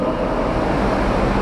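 A dense, constant whine of several RC touring cars pulling away together at the start of a carpet race, a blended motor drone with no gaps for the whole short stretch.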